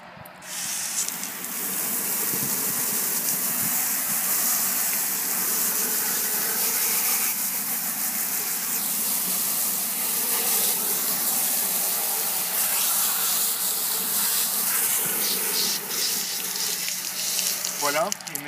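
Water rushing steadily from a hose or tap over a swimming pool filter sock being rinsed outdoors, a continuous close hiss and splash with slight shifts in flow, lasting throughout with a faint voice near the end.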